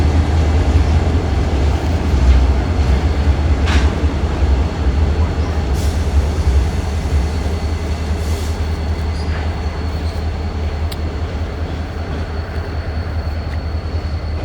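An EMD General Motors diesel locomotive train rumbles past, with a loud, steady low-frequency drone, rolling wheel noise and occasional faint squeals.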